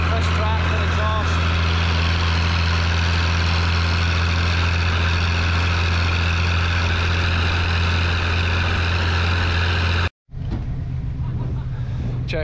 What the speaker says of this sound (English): I love the rip off this tractor exhaust.